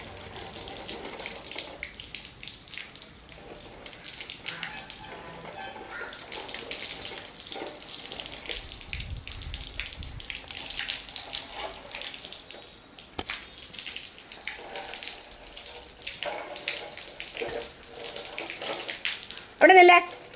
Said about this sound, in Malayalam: തലയിൽ വെള്ളം ഒഴിച്ചാലല്ലേ തണുക്കത്തുള്ളൂ